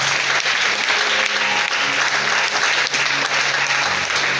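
A church congregation claps and applauds the Lord during a French sermon. The applause is loud, dense and continuous, with many hands clapping at once throughout.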